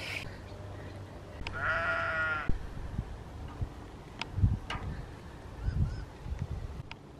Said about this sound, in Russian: Black sheep on Glastonbury Tor.